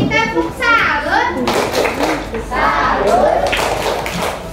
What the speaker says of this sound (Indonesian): Kelompok kita beri tepuk salut.